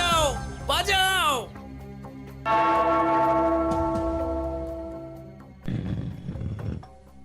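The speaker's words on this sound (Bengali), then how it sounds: "ওই ঘন্টাটা বাজাও, বাজাও।" A large bell rings in a cartoon royal court, giving a sustained, shimmering tone that slowly fades, with animated voices before and after it.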